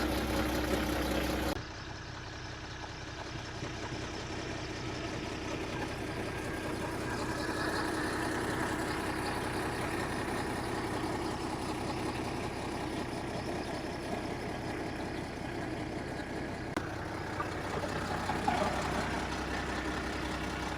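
A tractor runs steadily with two disc mowers working a hay field, giving a continuous mid-to-low engine drone that holds at an even level throughout, with no voices over it.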